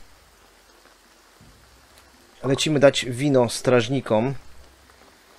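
Rain falls steadily in the video game Graveyard Keeper, a soft, even patter that runs quietly through the whole stretch while someone talks over it in the middle.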